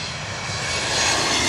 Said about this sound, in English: St. Louis, an Embracer 170E coming on in. An American Airlines from St. Louis, Embraer.